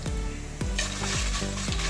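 Coriander seeds with five dried red chillies and three Kashmiri chillies dry-roast in coconut oil, a continuous close sizzle broken by a few sharp scrapes of a spoon stirring through the pan.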